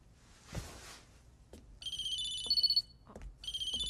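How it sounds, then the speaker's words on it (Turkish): An office desk telephone rings in a TV comedy scene, sounding two bursts of electronic trilling tones separated by a short pause, clear and close, with a few brief thumps and rustles before the first ring. "Abbas Bey'in telefonu, buyurun."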